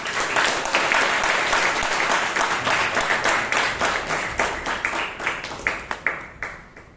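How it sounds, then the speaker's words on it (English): A Toastmasters meeting audience in Bangalore gives a loud round of applause welcoming a speaker to the stage, dense and sustained clapping that gradually thins into fewer, sharper claps near the end. "with a thunderous round of applause. Please welcome Toastmaster Hitesh Kumar."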